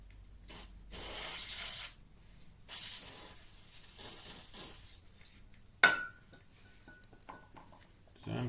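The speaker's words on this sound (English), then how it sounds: "So I'm cleaning the bolt with the brake cleaner." Short hissing bursts of brake cleaner sprayed onto a bolt from the rear axle of a 2007 Peugeot Satelis 125cc scooter, several spurts close up, followed by a sharp metallic clink and quiet handling noises.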